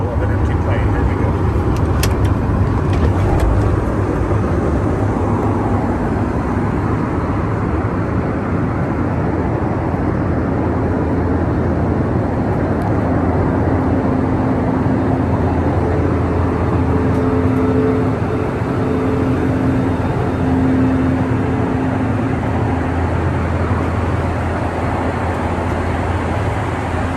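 Steady, loud engine roar and airflow rumble inside the cabin of an empty passenger airplane, heard while walking down the aisle, continuous throughout with faint clinks near the start.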